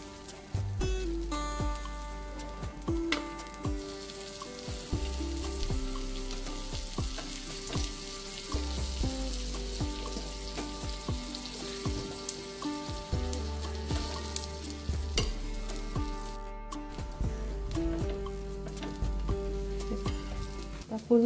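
Dabeli buns fry in butter on a pan, a steady close sizzle and crackle running throughout, with faint background music underneath.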